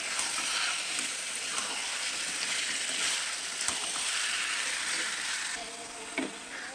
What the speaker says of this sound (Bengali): চিকেনটাকে ভালো করে কষিয়ে নেবো